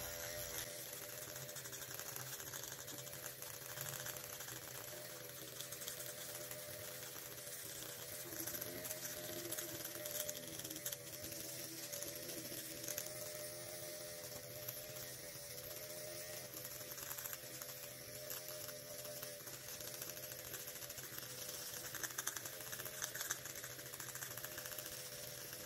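A Dr. Pen Ultima M8 nano needling pen runs at close range with a steady, even mechanical buzz that holds unchanged throughout, at low volume and with no talk.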